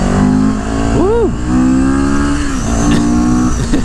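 A CFMOTO motorcycle pulls hard from close by, its engine note climbing sharply through a quick rev before settling into a strong steady drone under wind noise.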